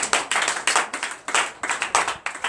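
A congregation at a Sunday church service in Benin clapping together in rhythm, a series of bursts of many hands pulsing steadily and fairly loud, with no voices over them.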